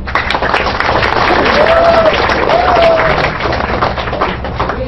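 An audience at a talk on techno-preneurship bursts into applause: dense, steady clapping from many hands, loud and close, with a brief whistle-like tone rising over it midway.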